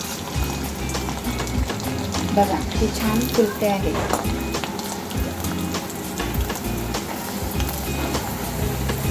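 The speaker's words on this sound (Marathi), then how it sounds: "आता मी तुम्हाला हे तळून दाखवणार आहे" Rice chakli deep-frying in hot oil in a kadai, a steady crackling sizzle that runs throughout, close and continuous, while someone talks over it.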